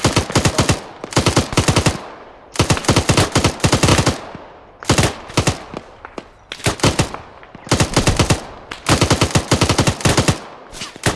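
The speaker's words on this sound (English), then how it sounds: "am I hearing shots behind us? That's probably friendly, right?" Gunfire in the Arma video game crackles almost nonstop, with loud rapid bursts and single shots repeating in clusters and barely any pause between them.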